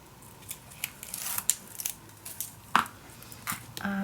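Tape being peeled off paper for a handmade mini album: a series of close, crisp tearing and crackling bursts at uneven intervals, fairly quiet, with no talking.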